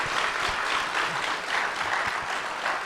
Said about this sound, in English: Let's give Her Vang the loudest, awesome applause